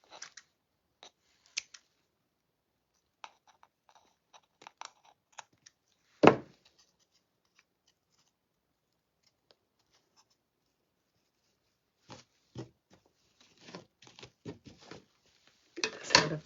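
Scissors trimming the long ends of craft wire or ribbon on a handmade angel ornament, a scattering of quiet, sharp snips and clicks in short bursts separated by silences, with one louder cut near the middle and a busier cluster at the end.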